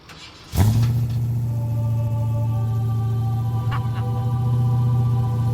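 A Ford Mustang muscle car at a custom car shop fires up with a sudden loud crank and catch, then settles into a deep, steady, rumbling idle for several seconds.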